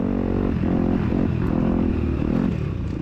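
A dirt bike engine revs hard close behind a rider at an SORCS off-road race at The Swamp, a loud, continuous droning roar with rising and falling pitch throughout.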